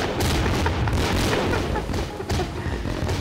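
Fireworks explode in the video game My Summer Car: a dense run of loud booms and crackling bursts, several sharp blasts standing out over a constant roar, with a voice speaking faintly underneath.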